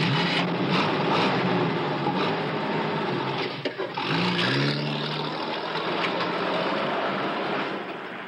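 A voice imitates a car, holding a steady engine-like hum and rumble with a brief revving rise partway through, continuous and close.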